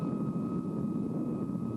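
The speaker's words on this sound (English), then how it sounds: "the first jet transport on the North American continent, once again taxied out to the runway for its public debut" Avro C-102 Jetliner, an early jet airliner, taxiing out to the runway, giving a steady, continuous engine roar with a constant high whine, heard alone at moderate level.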